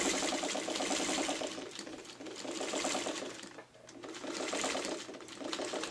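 A hand-cranked sewing machine stitches a curved seam, its needle making a quick, even, rapid clatter in bursts that slow briefly twice before picking back up, close and fairly quiet.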